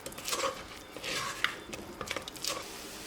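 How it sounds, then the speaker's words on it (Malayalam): Turmeric and fennel powders being sautéed in a pan for kadala curry, with soft scraping stirs and light clinks of a utensil against the pan over a faint sizzle, quiet and close with no talking. "ഈ പൊടികളുടെ പച്ചമണം മാറുന്നവർ നന്നായിട്ടൊന്ന് വഴറ്റി കൊടുക്കുക."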